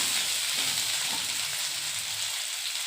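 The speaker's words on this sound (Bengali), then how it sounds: "এখানে আমার আলুগুলো ভাজা প্রায় হয়ে গেছে, মোটামুটি ভাজা হয়ে গেছে আলুটা।" Potatoes frying in oil in a pan for a papad aloo recipe, a steady, fairly loud crackling sizzle that holds evenly throughout with no speech.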